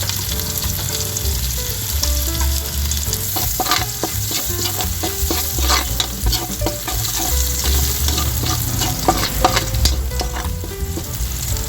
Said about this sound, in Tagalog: Ito guys yung ating bawang. Gigisa na tayo.